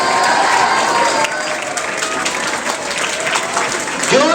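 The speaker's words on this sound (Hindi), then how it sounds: "जोरदार तालियों के साथ" An audience at a motivational lecture applauding loudly and steadily, dense continuous clapping throughout, with a voice speaking over it.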